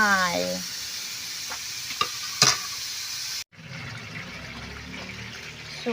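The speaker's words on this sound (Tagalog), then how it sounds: "Hintayin natin na mamula yung aking giniling na karne ng mamay." Ground pork sizzles steadily in a frying pan, with a few scraping stirs and clinks over the constant crackle, and a brief break partway through before the sizzling resumes.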